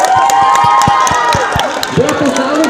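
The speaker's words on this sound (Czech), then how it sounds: "Velký potlesk pro ní." An audience cheers and applauds a contest winner, a loud dense crowd roar with rhythmic clapping and shouts running through the whole stretch, and a voice briefly cutting in near the end.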